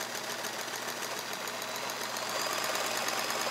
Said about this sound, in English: I can get the needle moving slowly. I can speed it up just like you can with any sewing machine really.